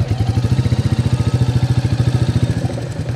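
Royal Enfield Meteor 350 single-cylinder motorcycle rolling at walking pace, its low, even engine thump pulsing steadily and close, easing slightly toward the end.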